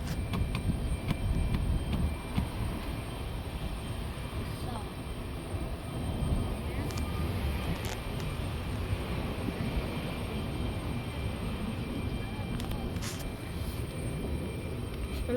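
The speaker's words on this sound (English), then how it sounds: "Oh, United taking off." A United Airlines jet takes off, its engines a steady, broad roar that holds throughout at moderate distance, with faint occasional clicks and no clear talk.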